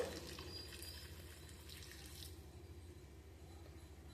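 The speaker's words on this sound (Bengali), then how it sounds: "আমি দিয়ে দিচ্ছি পরিমাণ মতন জল" Warm water poured into a pan of Bengali katla fish curry with spices, a faint steady pouring and trickling hiss over a low bubbling undertone, close and without talk.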